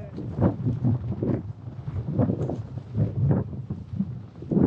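Strong wind gusts across a golf course at KN Golf Links Cam Ranh, buffeting the microphone in rough, uneven rumbling bursts that swell and fade throughout, loud and close.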